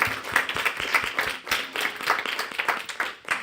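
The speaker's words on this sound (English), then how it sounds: "let's give Spencer one last round of applause" A small audience claps at the end of an academic talk on transformers, producing a moderate, fairly quiet patter of hand claps that continues steadily without voices.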